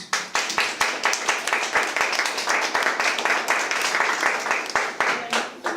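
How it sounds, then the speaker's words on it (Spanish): A church congregation claps during a Spanish-language service, hands striking in a steady, regular rhythm with sharp individual claps close by over a fuller background of clapping, sustained for several seconds. "Denle un aplauso a Jesús."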